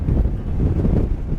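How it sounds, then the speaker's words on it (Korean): Strong wind gusts buffet the microphone outdoors by the sea, a loud, steady low rumble with no talk. "아우, 바람 엄청나네"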